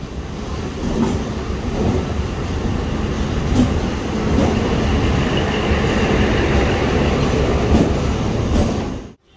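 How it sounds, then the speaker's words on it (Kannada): A train pulls into platform 6 at a railway station, its wheels rumbling and clattering over the rails in a loud, steady roll with occasional sharp clicks before the noise cuts off abruptly. "ನಮ್ಮ ಟ್ರೈನು ಪ್ಲಾಟ್ಫಾರ್ಮ್ ನಂಬರ್ 6 ಬರ್ತಾ ಇದೆ"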